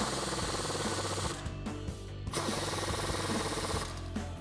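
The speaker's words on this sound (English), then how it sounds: "we can grab an 18 millimeter socket for the bolt side and a 21 millimeter wrench for the nut side and tighten these down" A socket wrench ratchets steadily as bolts are tightened while lowering springs are fitted to a 2005-2014 Mustang, with close, continuous mechanical clicking and brief pauses between strokes.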